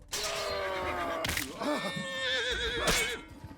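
A horse in the video game Mount & Blade II: Bannerlord gives several loud, close whinnies, each a high wavering neigh that falls away, separated by short breathy pauses.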